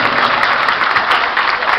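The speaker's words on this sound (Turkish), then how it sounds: "Bir alkış daha alalım." Loud, dense applause from guests in a wedding hall in Amsterdam, a continuous close roar of clapping hands with no voices standing out.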